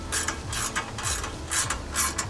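Nylock nut being tightened on a metal skid plate for a Triumph Scrambler 400 X motorcycle, a close, loud series of rhythmic ratcheting clicks in about four bursts.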